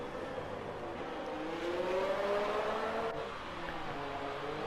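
A race car engine in a racing video game at a Belgium round hums steadily with a slowly rising pitch, a continuous whir with no talking.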